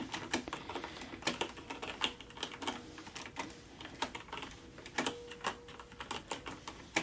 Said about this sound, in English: I'll go ahead and type this in.